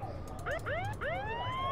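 A short electronic siren from a Nancy Drew video game puzzle gives a few quick rising and falling wails over quiet background noise.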